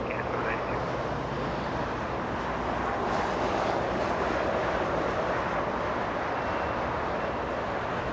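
A jet airliner roars down runway 25 right at Los Angeles International Airport, a loud broadband engine rumble sustained throughout and swelling slightly mid-clip, heard from a distance without talking.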